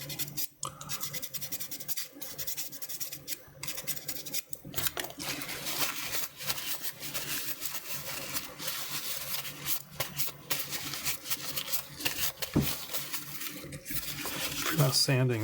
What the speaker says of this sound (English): When you're sanding all these pieces,